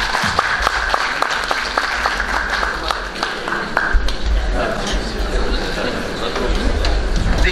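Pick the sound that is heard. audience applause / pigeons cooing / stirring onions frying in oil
audience applause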